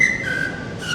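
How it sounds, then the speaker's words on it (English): Whistles blown near the Mexico City F1 circuit ring out as a sustained, fairly loud high tone with a slight pitch wobble, outdoors with soft background noise. "Don't know what the whistles mean."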